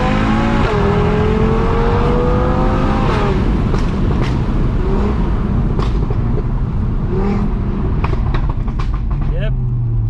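A tuned 2020 Audi RS3 with its OPF removed drives hard, a loud steady engine roar with shifting pitch filling the cabin, and people talk over it throughout.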